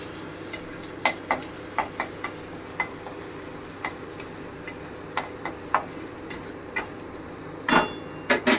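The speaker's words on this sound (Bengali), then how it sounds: "এবারে আমি রসুন বাটাটা দিয়ে দিচ্ছি একটুখানি ভেজে নেব একটু নাড়াচাড়া করে ভেজে নেব" Garlic paste fries in a pan for a masala prawn curry under a low steady sizzle, while a spoon scrapes and taps the pan in regular short knocks every half second or so, close by with no speech.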